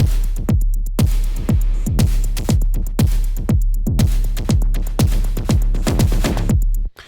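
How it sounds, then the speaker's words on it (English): Drum groove programmed on an Elektron Analog Rhythm analog drum machine: steady kick, snares and hats in a driving repeating pattern, loud and close, running alone for about seven seconds before cutting off. "I programmed a groove on the analog rhythm, which is a Electron drum box, analog drum machine"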